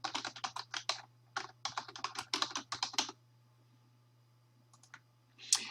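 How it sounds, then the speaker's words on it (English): Keys clatter on a computer keyboard as a title is typed into a library catalog search, fast bursts of clicks with short pauses, close and clear, then a few isolated taps near the end. "Now I can simply type in the title of what I'm looking for."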